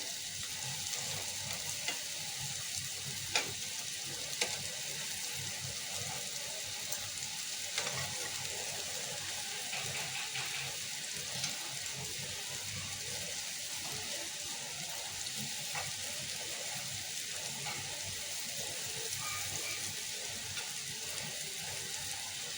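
Breadfruit slices frying in a pan, browned on both sides, give a steady, even sizzle throughout, with a few faint clicks of a utensil and no talking.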